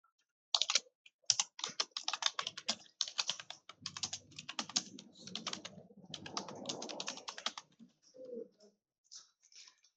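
A name is typed into an MS Word document in a steady run of close, light keyboard clicks lasting several seconds, then trailing off into a few scattered softer sounds.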